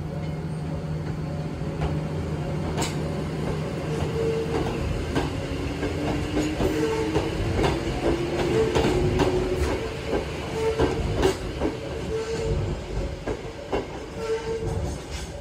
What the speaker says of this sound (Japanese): この乗ってきた電車は、アレグラ号っていう愛称で親しまれてます。